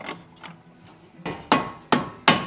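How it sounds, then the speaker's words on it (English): A soft hammer strikes metal on a BMW under repair, a few light taps followed by three sharp, close blows in uneven rhythm, with no talking. "That's why you have soft hammers."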